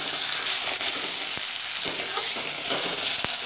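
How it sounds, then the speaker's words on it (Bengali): Tomato fries with ginger garlic paste in a hot pan for a potato and long bean curry, giving a steady close sizzle with a few soft scrapes and clicks of stirring. "টমেটোটাকে দিয়েও 1 মিনিটের মতো ভাজা ভাজা করে নিয়েছি"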